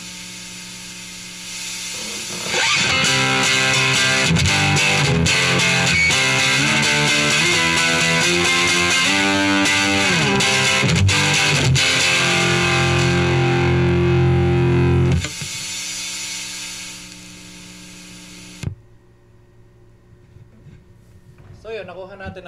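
Stratocaster electric guitar played through a Kustom KG100HFX 4x12 amp with distortion, treble-heavy with a flat EQ, ringing sustained driven chords and riffs loudly for about fifteen seconds, then fading into a decaying tail and quiet handling noise.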